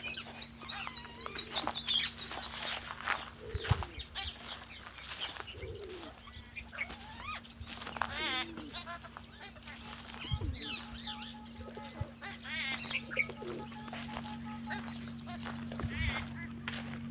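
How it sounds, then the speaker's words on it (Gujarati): Parrots perched in a fruiting tree chirp in shrill, scattered bursts at moderate distance, with a steady low hum underneath. "જો આમાં પોપટ બેઠા છે અને પોપટ ખાય પણ છે."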